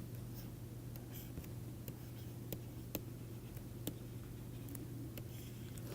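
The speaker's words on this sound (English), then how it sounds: "So, let me write it as a theorem." Someone writes out a linear algebra theorem on a board, producing faint, quiet scratching and occasional soft taps over a steady low hum, with no talking.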